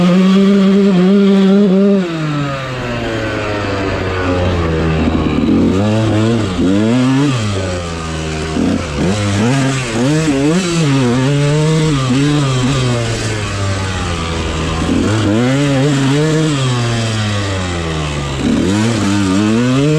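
A dirt bike ridden around a sand lap, its engine loud and close, revving up and down in repeated sweeps as the rider accelerates and eases off, with no talking.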